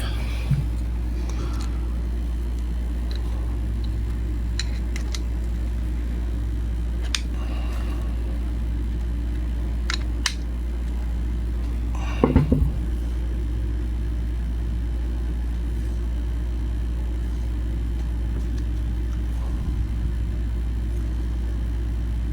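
The motor of a Hankscraft Model 75921 humidifier hums steadily with a constant low drone while it spins, close by, with a few small clicks and taps of handling over it and a person speaking at times.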